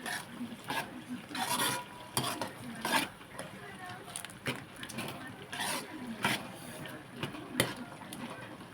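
Prawns being stirred into masala gravy in a pan, a series of quiet, irregular scraping strokes over a soft simmer, fairly faint and close.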